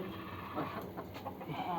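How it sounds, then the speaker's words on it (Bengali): A hen settling to lay an egg clucks softly a few times, close by but faint, against a quiet background hum. "একটা মুরগি ডিম পাড়তে বসছে"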